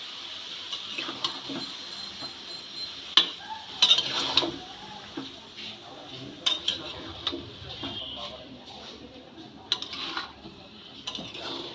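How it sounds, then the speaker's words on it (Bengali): Greens being stirred into vegetables in a pan, for a fish-head pui metuli dish, with a low sizzle and repeated scraping clinks of a spoon against the pan. Stirring runs steadily with occasional louder knocks. No one speaks. "শাকটাকে সবজির সাথে খুব ভালো করে আমি মিশিয়ে নেব"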